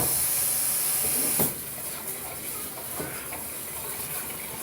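Strawberries being rinsed under a running kitchen tap, a steady close hiss of flowing water with a slight change in tone as the fruit goes under the stream.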